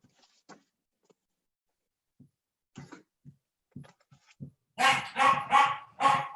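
A few faint thumps and rustles, then a dog barks four times in quick succession, close and loud.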